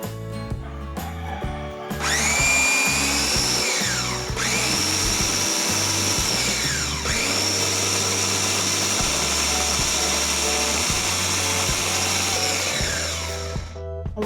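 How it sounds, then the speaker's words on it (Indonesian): Electric blender purees bananas, motor whining up to a loud steady grind after a short start, with brief dips in speed before it cuts off near the end. "Kita haluskan pisang dengan blender ya teman-teman."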